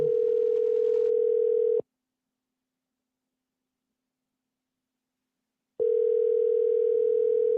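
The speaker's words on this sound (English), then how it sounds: "Can you hear that ringing?" A telephone call rings out as a steady dial-like tone, two long bursts separated by a pause of silence, loud and close.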